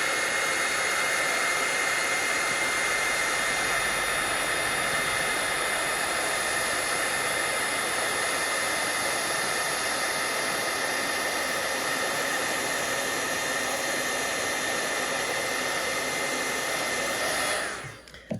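A heat tool blows steadily for about 17 seconds, melting embossing powder on a Christmas card, a constant loud whooshing hiss with no talking, cutting off abruptly at the end.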